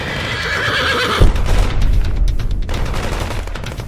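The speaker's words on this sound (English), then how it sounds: "she could hear and feel a horse take an unfortunate fall as it came crashing to the ground" A horse whinnies, then a heavy thud and scuffling crash as the horse falls to the ground, with rapid gunfire crackling around it.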